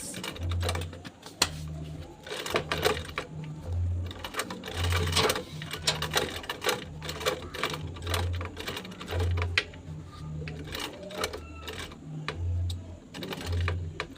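A sewing machine stitches a beginner's tote bag in a long run of rhythmic, thumping pulses, close and steady, with faint clicks and handling noise throughout.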